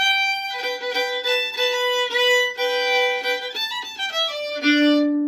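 A fiddle plays a lively, ornamented melody with double stops and quick bowed notes, close and solo, ending on a sustained low note.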